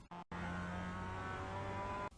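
A Mazda MX-5 race car engine in the video game iRacing holds a steady, loud, close drone, cut briefly near the start as if by a gearshift.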